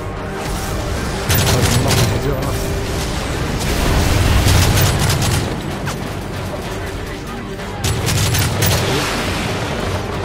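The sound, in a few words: gunfire and explosions in video game Modern Warfare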